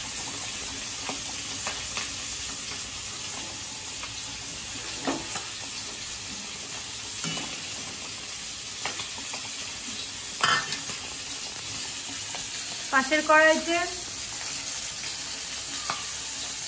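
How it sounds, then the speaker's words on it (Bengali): Large roe-filled tangra fish fry in a wok, crackling and spattering steadily close by, with occasional sharper pops and a brief voice in the background. "ডিম ভরা ট্যাংরা ভাজা হচ্ছে, অনেক বড় বড় সাইজের, খুব ফাটছে"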